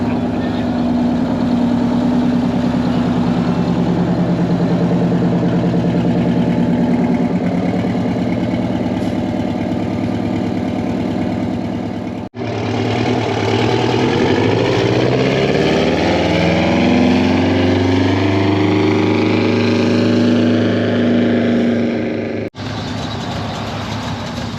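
Hemi-engined truck idling at a night truck cruise, a loud, steady low rumble close by that continues throughout, with a faint shift in pitch partway through.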